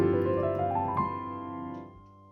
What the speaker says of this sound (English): With the pedal,